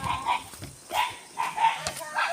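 Several dogs bark in short repeated bursts outdoors near flowing water, moderately close, with some faint talk in the background.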